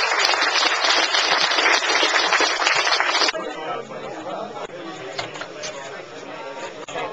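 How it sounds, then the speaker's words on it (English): Crowd applause at the Solo Racing Festival, a single-handed sailing event: a dense burst of many hands clapping for about three seconds, then it fades into chatter and talking voices. "So the biggest round of applause for Jerry Freeman"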